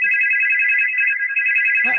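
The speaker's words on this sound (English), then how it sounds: "Somebody's calling in." A telephone ringtone signals an incoming call: a loud, steady two-tone electronic trill that rings continuously at close range, with a brief voice starting just as it ends.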